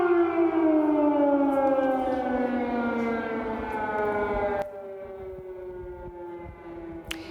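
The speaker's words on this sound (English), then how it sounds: "The sound of air sirens in the early dawn over the Ukrainian capital." Air raid sirens wail over Kyiv at dawn in long sustained tones, pitch slowly falling, echoing over a wide open space with no talk.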